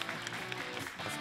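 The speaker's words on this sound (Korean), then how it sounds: "큰 박수 부탁드릴게요." Fans at a Busan baseball team send-off event clap for the closer and a player joining him on stage, a dense, steady burst of applause from a live crowd filling the whole moment.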